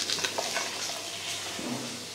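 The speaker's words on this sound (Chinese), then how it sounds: "咸鱼放油不用太多，因为只是煎一小块咸鱼罢了。" A small piece of Mei Xiang salted fish fries in a little oil in a hot pan over moderate heat, a soft crackling sizzle with a brief stir, close and fairly quiet.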